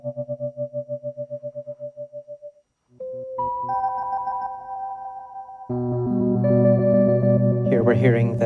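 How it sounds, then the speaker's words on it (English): Electric piano from the apeSoft Electric Vintage Rhodes iPad app run through a slicer effect, sustained chords chopped into a rapid pulsing stutter, then fuller, louder chords with distortion and echo; no voices. "Here we're hearing the slicer again."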